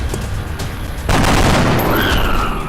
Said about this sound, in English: let's have you switch to your rifle and take a shot at that sectoid